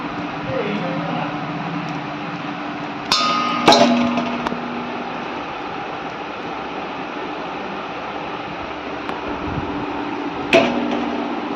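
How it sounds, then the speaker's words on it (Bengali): A knife portions kneaded flour dough for egg roll wrappers, giving a few sharp, isolated knocks against the board spaced seconds apart over a quiet kitchen background. "এখন লেচি কাটছি"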